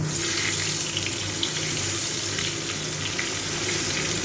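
Potatoes go into hot oil in a wok and fry with a loud, continuous hissing sizzle, close and steady from start to finish.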